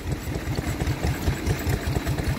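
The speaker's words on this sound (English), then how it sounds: "Here we have a lovely Associate engine, isn't she lovely? Now that is hit and miss," An Associate hit-and-miss stationary engine running at a steam rally, close and steady, with a regular rapid chuffing beat over a low mechanical rumble.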